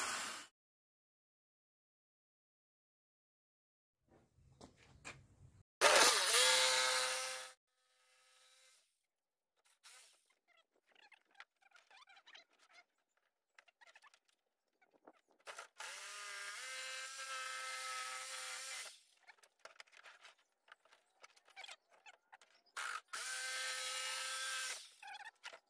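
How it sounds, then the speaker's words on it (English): A power drill boring four holes in a small travel trailer's wall to start a window air conditioner mount cutout, heard as three separate loud bursts of whirring drilling with quiet handling clatter between them. "We're going to drill four holes so that we can cut it out with a jigsaw."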